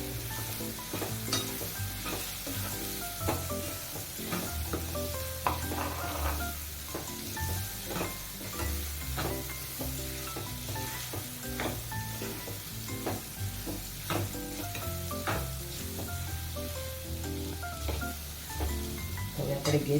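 Garlic paste and finely chopped onions sizzle and fry in a pan for baingan bharta, a steady crackling hiss broken by repeated stirring scrapes, close and continuous.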